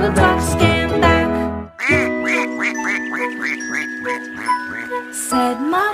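A sung imitation of ducks quacking in a children's phonics song, a voice repeating a quick run of bright, clipped quack sounds in an even rhythm over light music with a tinkling accompaniment.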